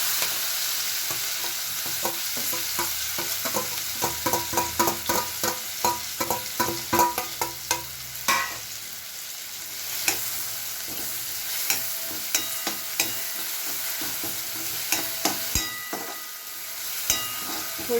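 Onion paste frying with cumin and asafoetida in a pan, with a steady close sizzle and regular spoon strokes and taps against the metal, quickening and then thinning out to occasional knocks.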